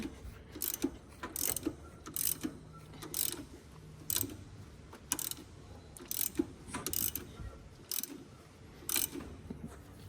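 A Subaru engine is turned over by hand after a stretch belt is fitted, giving a series of repeated, evenly spaced ratcheting clicks and mechanical ticks, close and fairly quiet, with nobody talking.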